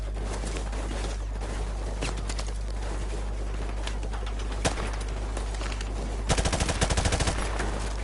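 Enemy gunfire in Call of Duty 4: Modern Warfare rattles through a noisy battlefield mix, with scattered shots and then a rapid close burst of automatic fire near the end.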